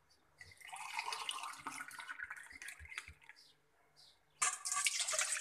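Water being poured out, three cups of it, splashing and trickling in short bursts with brief pauses, ending in a louder, steady pour.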